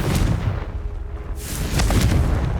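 In the video game Hogwarts Legacy, a Confringo fire spell explodes with a loud, rumbling blast. The roar fills the whole clip, swelling and fading and then surging again, with crackling debris and no talking.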